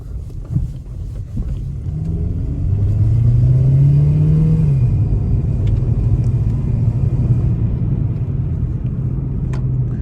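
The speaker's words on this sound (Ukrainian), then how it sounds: "От зараз я їду зі швидкістю 60 км на годину. Приблизно от такий гул стоїть в салоні." Steady low road drone inside the cabin of a Kia Rio 3 cruising at 60 km/h, with a brief swell of engine hum midway, constant and fairly loud with no talking.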